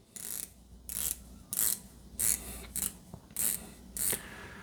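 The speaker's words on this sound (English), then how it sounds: "we have a very nice 120 click unidirectional diver's bezel" A series of crisp ratcheting clicks in short bursts, about eight quick turns of a 120-click unidirectional diver's watch bezel, close up with brief pauses between.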